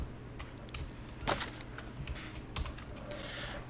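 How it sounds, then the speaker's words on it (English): Scattered clacks from a quieter computer keyboard, with a few sharper key strikes standing out over a low steady hum, the typing sparse and irregular with no voices. "one of the things I did get was a quieter keyboard, hopefully you're hearing less clackety clackety clack"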